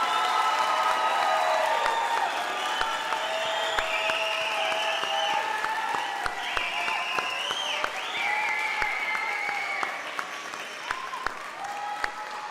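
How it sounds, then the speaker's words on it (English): Audience at a college nursing pinning ceremony gives associate degree nursing graduates a long round of applause, steady dense clapping with occasional cheers and whoops, moderately distant and fading slightly toward the end. "How about a giant round of applause for our associate degree nursing graduates?"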